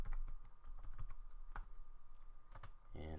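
A password is typed on a computer keyboard, a quick run of close, quiet clicking keystrokes with irregular spacing.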